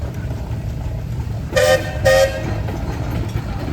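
Two short whistle toots from a 1915 steam traction engine, 7.5 by 9 bore and stroke and rated 36 horsepower, sounding at an outdoor engine show parade, the blasts close together over steady crowd and engine background noise.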